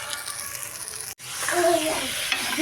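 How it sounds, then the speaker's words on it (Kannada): Onion and tomato frying in a pan with turmeric and salt, a steady close sizzle with stirring scrapes, briefly cut off by a short gap partway through. "ಉಳ್ಳಾಗಡ್ಡಿ ಟಮಾಟಿ ಆಮೇಲೆ ಅರ್ಶಿನ ಪುಡಿ ಉಪ್ಪು ಹಾಕಿ ನಾನು ಚಲೋ ಫ್ರೈ ಮಾಡಾಕತ್ತೀನಿ ರೀ"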